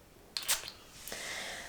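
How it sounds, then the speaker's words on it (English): A single short hiss from a Cerchi Nell'Acqua perfume atomizer, heard up close and alone in a quiet room, with a faint second puff just after. "I'm gonna spray one spray"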